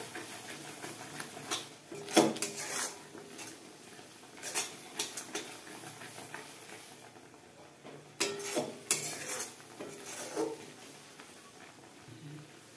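A spoon clinks and scrapes against a pan while mango jelly mixture with cardamom powder is stirred, giving intermittent metallic taps and knocks in irregular bursts over a quiet background.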